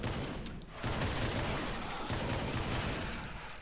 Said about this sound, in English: I should be using this gun more often